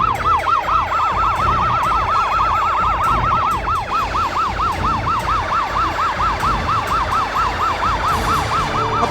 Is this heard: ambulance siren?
yes